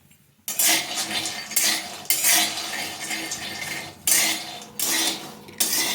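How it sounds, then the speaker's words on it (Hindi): Peanuts roast in a hot kadhai as they are stirred continuously, rattling and scraping in bursts against the metal pan after a brief quiet opening, loud and close. "अब इसमें सारी मूंगफली को डाल देती हूँ और इसे हम लगातार चलाते हुए भून लेंगे"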